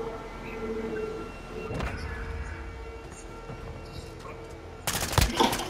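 Gunfire from Call of Duty: Modern Warfare II plays as a sharp shot early on and a loud, rapid burst near the end, over quieter game ambience.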